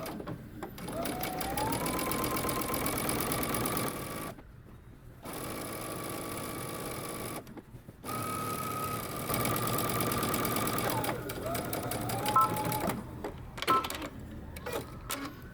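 Sewing machine back stitching a seam on cropped leggings, with bursts of rapid mechanical whirring stitches broken by short silent pauses, near and steady, plus a few brief changes in motor pitch as the direction reverses.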